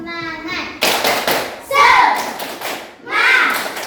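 Children in a classroom doing the rhythmic tepuk semangat class clap, with three loud bursts of clapping and thumping alongside children's voices chanting.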